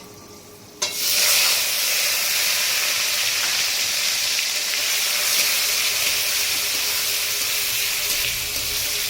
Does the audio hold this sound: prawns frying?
yes